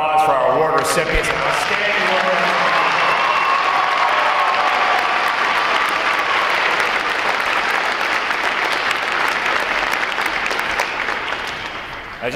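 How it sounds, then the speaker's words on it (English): Sustained, loud applause from a large crowd honoring award recipients at a U.S. Navy Recruit Training Command graduation ceremony, steady and dense throughout before tapering slightly at the end. "how about another round of applause for our award recipients?"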